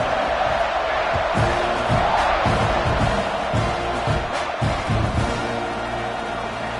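Football stadium crowd roaring before a college kickoff, a dense, continuous wall of cheering with rhythmic thumps and shouts rising throughout.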